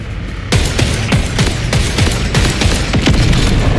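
Gunfire aimed at a core in the Borderlands 4 video game: a rapid run of loud, evenly spaced shots and impacts that begins abruptly and continues steadily to the end.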